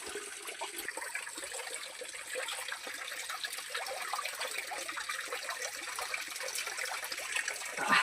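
Cold spring water flows steadily from rock, a soft continuous trickling and splashing rush at moderate distance with no voices.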